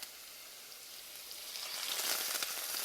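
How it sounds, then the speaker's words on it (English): Crushed garlic cloves sizzle in a hot pan, a steady hissing crackle that grows slightly louder toward the end, heard up close with no talking. "we add 4 cloves of garlic that I crushed just now"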